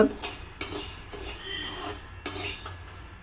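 Urad dal being roasted and stirred in a pan for hotel-style idli podi, with a utensil scraping and clinking against the metal in several short strokes over a steady low hiss, close and moderately loud.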